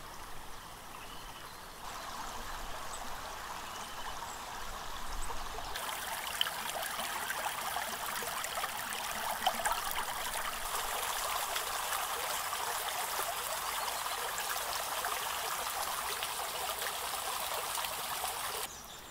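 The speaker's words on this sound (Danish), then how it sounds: "Kildebækken falder ca. 17 meter fra Kildevæld til udløbet i Lindenborg Å neden for Damborg på modsatte bred." The Kildebæk brook in Rold Vesterskov forest, Denmark, flows and trickles in a steady, close rush of water that swells after a few seconds and continues evenly throughout, with no voices.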